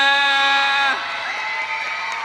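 An audience at a Sunday school Christmas service in an HKBP church cheers and claps, the noisy crowd swelling in just after a held electronic tone cuts off.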